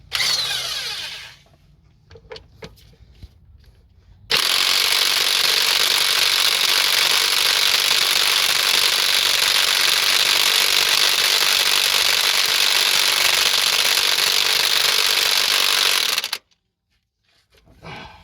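A high-torque power tool, rated around 440 torque, hammers at a badly stuck bolt during timing belt and water pump removal on a Toyota Sienna. It makes one loud, continuous roaring burst of about twelve seconds, with short quieter handling sounds before and after.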